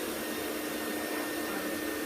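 A Rainbow vacuum cleaner runs steadily nearby, a loud, even whooshing whine of airflow that holds unchanged from start to finish with no voices.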